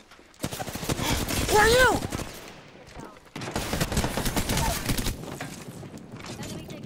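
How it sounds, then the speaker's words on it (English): Enemy gunfire in Apex Legends comes in two loud, rapid bursts of sharp shots, separated by a brief pause. Players talk over the shooting. "They're shooting at me."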